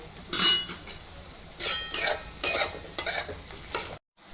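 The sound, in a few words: onions and green chillies frying and being stirred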